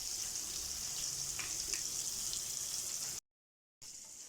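Fish frying in hot oil with curry leaves, a steady broad sizzle throughout that cuts out briefly near the end before resuming.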